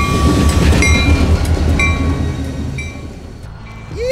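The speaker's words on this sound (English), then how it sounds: "there's a train" A train rolls past close by, its wheels clattering rhythmically over the rails amid high metallic squeals, the rumble easing as it moves away.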